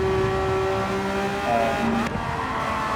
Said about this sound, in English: And I'm redlining the Porsche